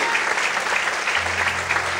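A church congregation claps in applause during worship, a steady dense patter of many hands throughout the short stretch, with a low musical hum entering partway.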